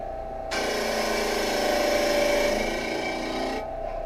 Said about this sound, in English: let me go ahead and sand one down